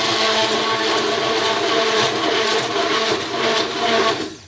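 Lye solution being stirred into used cooking oil for bar soap with a steady, loud mechanical whirr like a stick blender, running continuously before cutting off at the very end.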